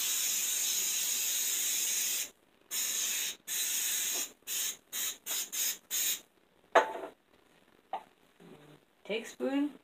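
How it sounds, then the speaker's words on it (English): Cooking spray hisses onto a cookie sheet during cookie baking: a long spray burst followed by a quick run of short, choppy squirts, then quieter clicks and handling noises. "Spray cookie sheet."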